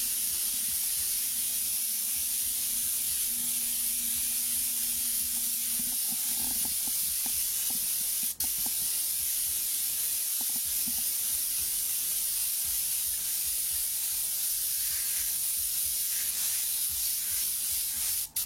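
Paint spray gun laying a wide, steady spray over background flame artwork, a continuous close hiss that holds unbroken for the whole stretch with faint low rumbles beneath.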